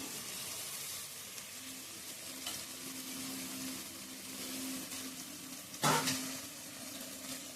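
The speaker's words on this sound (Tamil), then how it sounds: "மல்லியும் புதினாவும் போட்டு நல்லா வணக்குவோம்" Coriander and mint sauté in a pan for chicken biryani, giving a low, steady sizzle with a faint tonal hum and one brief clattering stir near the end.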